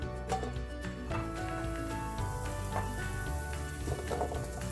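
Potato pieces gently frying in a pan, a steady continuous sizzle with crackling spatter, fairly quiet and without speech.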